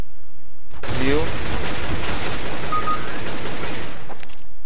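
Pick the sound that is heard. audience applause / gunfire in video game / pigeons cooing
gunfire in video game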